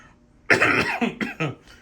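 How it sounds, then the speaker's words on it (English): A person coughs several times in quick succession, one harsh cough followed by a few shorter ones, close and fairly loud. "I do apologize for my coughing."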